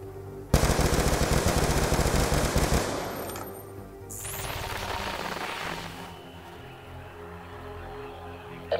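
Rapid machine gun fire in a Call of Duty game: a loud, dense burst lasting a couple of seconds, then quieter, more distant rattling bursts and a sharp sweep. A final shot comes at the end.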